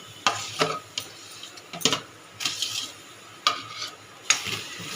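Palm fruit pulp being stirred in a hot wok, with a series of short scraping, sizzling bursts at irregular intervals over a quiet background, close and moderately soft.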